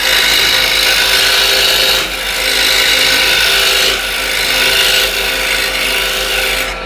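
A woodturning tool cuts a recess into spinning wood on a lathe, making a loud, continuous scraping rasp with three brief dips where the cut eases before resuming.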